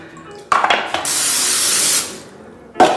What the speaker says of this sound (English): I just spray a little of this new and improved formula pan